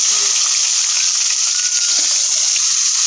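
Cinnamon and two bay leaves drop into hot soybean oil for a duck meat curry, giving a loud, steady, close hiss of frying that holds unbroken throughout.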